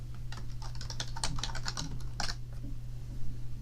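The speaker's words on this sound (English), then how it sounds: "type localhost/WordPress" Keys clatter in quick irregular bursts on a computer keyboard as an address is typed into a browser during a WordPress install, close and clear over a steady low electrical hum, with no voices.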